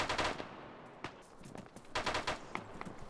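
Gunfire in the military shooter Arma during a ShackTac squad session: scattered bursts and single shots crack out at moderate distance, several separate volleys spread irregularly across the moment with no talk.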